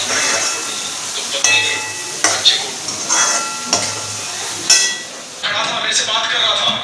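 Tomatoes with salt, turmeric and chili powder sizzle in a pan for sambar, loud and close, with repeated scraping stirs in a loose rhythm and a steady frying hiss.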